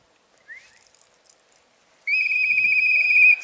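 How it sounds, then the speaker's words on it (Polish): A short chirp, then a loud, sustained shrill sports whistle blast calling pigeons, lasting over a second, close and piercing. "Dzisiaj wróciliśmy do naszej starej metody wołania gwizdka sportowego."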